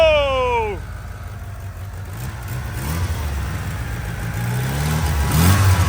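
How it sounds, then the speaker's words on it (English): An Eclipse car engine with an exhaust leak, after sitting for three years, drops from a high rev to a rough, close idle with a slight miss, then builds again near the end while a voice talks over it. "Bit of an exhaust leak somewhere."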